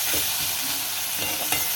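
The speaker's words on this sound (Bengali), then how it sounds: "এবার এই টমেটামটাকে একটু ভাজা ভাজা করে নেবো" Oil crackles and sizzles steadily in a pan while a utensil stirs and scrapes through frying green tomatoes, with no voices.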